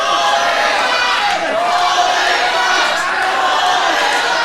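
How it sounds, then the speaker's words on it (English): Wrestling crowd at an APW November Reign show chanting together, a dense, loud wall of voices filling the arena for several seconds under a commentator's talk. "The crowd ringing out with chants of sore loser now."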